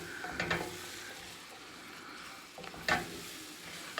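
Chicken pot pie filling stirred in a pan, a soft continuous sizzle with two scraping spoon strokes near the start and end, close and fairly quiet with no talk.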